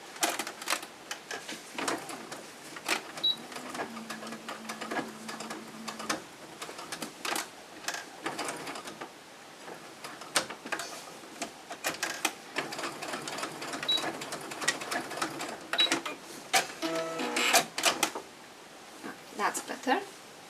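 A sewing machine stitching an exposed core cloth pad with a PUL backing, short bursts of rapid needle clatter separated by pauses and handling noise, close and moderately quiet.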